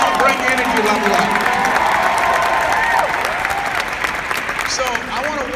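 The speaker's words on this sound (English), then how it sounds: "Give yourselves a round of applause." A large conference crowd at a Get Motivated event in Las Vegas applauds and cheers, continuous loud clapping mixed with whoops and shouted voices throughout.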